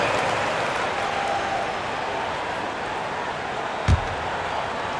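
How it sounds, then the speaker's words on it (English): Basketball arena crowd applauds the dance team with steady, dense clapping and cheering throughout, plus a single sharp thud near the end. "Fans, please give a big round of applause for your dance team."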